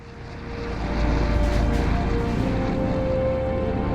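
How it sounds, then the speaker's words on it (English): Propeller airplane engine from the Medal of Honor Airborne video game: a loud, steady droning rumble with a constant hum that swells after the first second and holds without any voices. "Jumping out of an airplane is one of the safest things a man can do"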